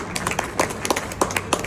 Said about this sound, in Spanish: que les pido un aplauso para ellos